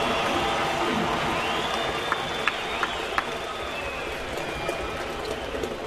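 A baseball stadium crowd at a Rockies at Marlins game roars for a curtain call after a three-run homer, a steady wash of distant cheering with a few sharp claps and whistles rising through it.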